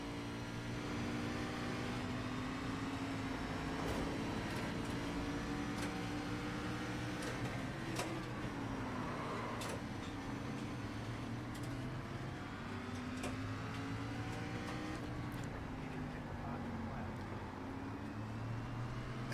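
Race cars circling a track with tyres working hard: a continuous engine drone with shifting pitch runs throughout, carrying occasional sharp clicks and thumps over a steady, mid-distance roar.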